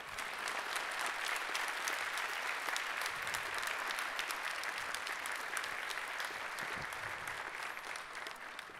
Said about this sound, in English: His Majesty the King, if you can join me up on stage here and give him an applause.